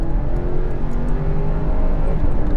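A 4x4 SUV launching hard from a brake-boost start, its engine droning loud and steady with a low continuous roar from inside the cabin, no talking.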